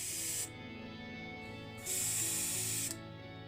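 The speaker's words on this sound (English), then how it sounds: "airbrush, just lightly putting on the pink for the first coat" An airbrush lightly sprays a first coat of pink Tamiya-thinned paint onto a Matchbox Lincoln Continental Mk V model car, giving two close bursts of airy hiss separated by a short pause, with no talking.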